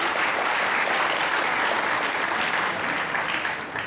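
A studio audience at a comedy talk show claps loudly and continuously for a few seconds, a thick even roar of hands that eases slightly at the end, with no talk over it.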